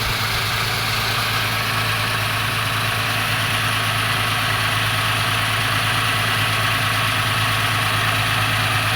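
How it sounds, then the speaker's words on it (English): A 1995 Suzuki Escudo engine idles smoothly and evenly after a misfire repair, a close, loud, steady hum and rumble that holds through the whole clip with no voices. "Misfire is gone. Engine is happy. Running very well."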